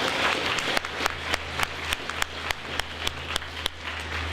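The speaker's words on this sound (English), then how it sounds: "How about another round of applause for all of that, right?" Audience applause at a school district celebration event, a crowd clapping in a room with a steady low hum underneath, with several loud, close individual claps punctuating it at a regular pace.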